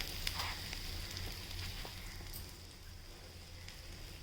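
Oil sizzles steadily in a pan as a bread-coated egg cutlet fries, a continuous soft hiss with faint crackles and occasional small pops throughout.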